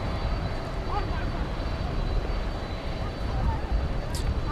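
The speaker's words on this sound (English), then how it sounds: "our first 747 coming in. This is Atlas Air, flight 7172 from Anchorage" An Atlas Air Boeing 747-400 arriving from Anchorage at DFW Airport at night, a steady moderate jet engine rumble and hiss with a faint higher whine.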